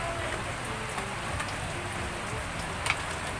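Steady rain falling on a rainy day at an outdoor pizza stall, a constant soft hiss of drops holding an even level throughout, with one brief tap near the end.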